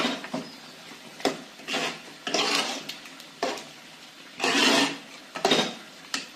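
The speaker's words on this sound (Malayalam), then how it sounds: "കുരുമുളക് പൊടി, നന്നായി ഇളക്കി കൊടുക്കുക." Pepper powder being stirred into chicken curry in a pan, a spoon scraping and rubbing against the metal in repeated broad strokes, close and fairly loud with brief pauses between them.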